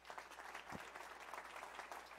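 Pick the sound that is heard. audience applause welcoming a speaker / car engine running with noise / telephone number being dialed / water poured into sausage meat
audience applause welcoming a speaker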